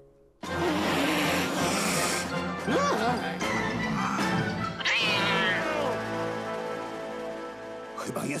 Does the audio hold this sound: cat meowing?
yes